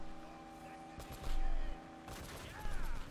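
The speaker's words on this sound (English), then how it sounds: "The gun that goes really fast." A rapid-firing turret gun in Uncharted: Drake's Fortune sends out two loud bursts of fast shots over a steady mechanical game hum, with a voice talking at points.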